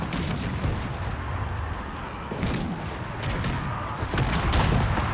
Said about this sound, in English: taking the fire from the batteries